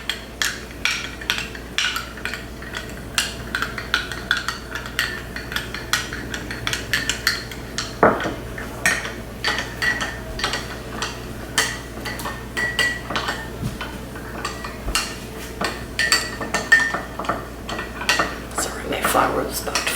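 A spoon stirs yeast in a bowl to dissolve it for sourdough pizza dough, with steady clinking and scraping against the dish throughout, close up and moderately loud.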